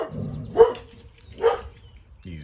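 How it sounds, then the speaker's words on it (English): Dogs barking outdoors near a house, two sharp, moderately loud barks about a second apart, with a faint voice starting at the end. "These dogs, I tell you what."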